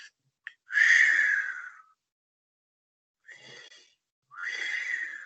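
A person demonstrates calm breathing: a few slow, airy, whistly breaths alone, one long exhalation followed after a pause by two softer ones, close and fairly loud with silence between.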